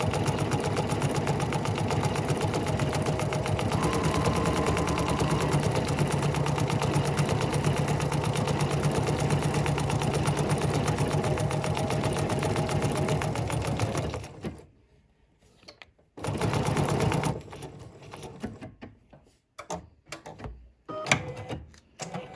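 A sewing machine stitches a decorative cross stitch at 5 millimeters, a fast, steady mechanical chatter that runs continuously, then breaks into short stop-start bursts near the end.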